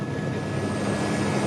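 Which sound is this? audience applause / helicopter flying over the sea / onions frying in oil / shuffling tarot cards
helicopter flying over the sea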